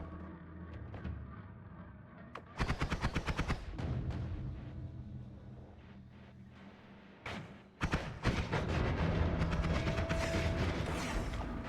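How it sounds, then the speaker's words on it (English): Enemies in the video game Noita fire sawblades, producing bursts of dense, rapid metallic clatter and whirring shots that start abruptly and repeat over a steady game background, loud and close. "They're shooting their own Sawblades."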